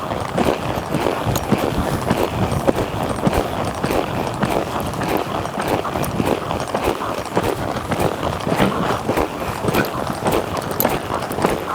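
A ridden horse lopes, its hoofbeats a steady rhythmic thudding that continues for about twelve seconds against a noisy outdoor background.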